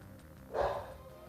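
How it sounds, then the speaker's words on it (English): A dog gives a single short bark in the background, faint and brief against quiet room tone during a live stream. "That is Nova barking in the background because Jenna is outside"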